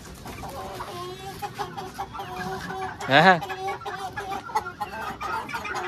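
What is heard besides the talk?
rooster clucking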